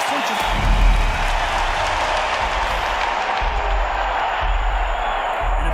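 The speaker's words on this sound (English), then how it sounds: "you can hear everybody in the crowd" A theater crowd roars and cheers at a boxing match in the video game Naraka: Bladepoint, a dense, steady wall of voices and applause that swells slightly near the start and continues unbroken.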